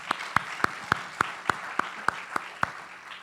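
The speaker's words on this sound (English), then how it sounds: "let's give that a round of applause" Slow, evenly spaced single claps at a community assembly, about ten sharp strikes in steady rhythm, close and fairly loud with no voices.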